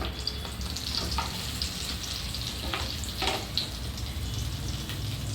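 Butter and cumin seeds frying in a pan, with a steady sizzle running throughout and occasional stirring scrapes; no one speaks.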